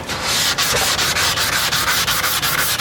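Wet sanding by hand with adhesive sandpaper stuck to a block, outdoors in the rain, a steady rhythmic rasping scrub of quick back-and-forth strokes, close and alone without talk.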